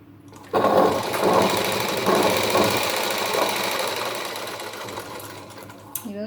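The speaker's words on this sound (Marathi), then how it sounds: "आपण ही शिलाई मारून घेऊ आणि ही पाच नंबरची शिलाई मारायची आपल्याला" A sewing machine runs a long, steady stitch along a blouse lining, its rapid needle rhythm loud and continuous after a quiet start, with a brief clack at the end.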